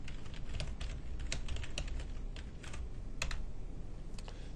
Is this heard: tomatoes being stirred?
no